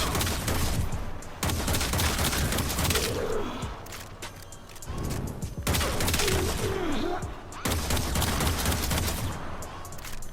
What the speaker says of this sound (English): So, again, 5 shots, no buffs.